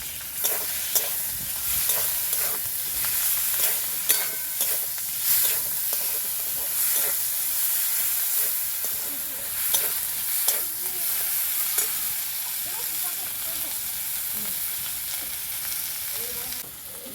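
Ginger-garlic paste sizzles in hot oil for a soybean and potato curry, a continuous loud hiss with recurring scraping stirs and clatters throughout, heard up close with no talking.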